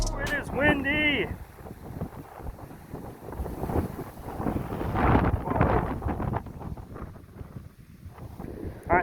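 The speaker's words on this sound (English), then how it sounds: "Ooh, it is windy." Strong 30 to 40 mph wind blows on a shoreline during fall bass fishing, a loud continuous buffeting rush against the microphone with a brief voice exclamation near the start.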